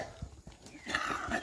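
Two cows walk past on a farm, their hooves thudding softly in a few uneven steps with rustling movement, heard close for a brief moment, with no speech.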